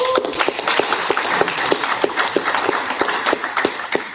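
Sustained applause from an indoor lunch crowd honoring military service members, dense, steady clapping with a few sharper individual claps standing out, filling the room throughout.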